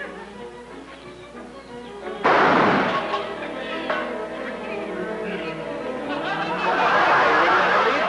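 A sudden loud gunshot burst rings out and trails into crowd chatter and murmuring, with the voices swelling again at the end.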